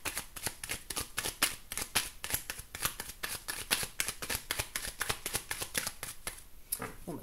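Tarot or oracle cards riffled and shuffled by hand, a steady run of crisp papery flicks close up for several seconds with no talking.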